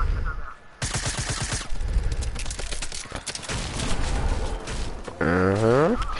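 Rapid bursts of video game gunfire crackle through a chaotic stream session, with sustained automatic fire layered over loud background noise and a sweeping tonal effect near the end.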